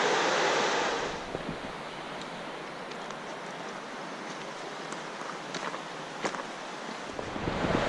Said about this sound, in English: The rapids making their way through all this log jam